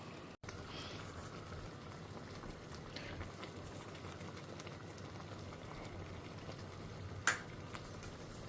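Dal of lentils simmering in a pot, a steady soft bubbling and burbling hiss that holds evenly throughout, with a single faint clink of utensil against metal near the end.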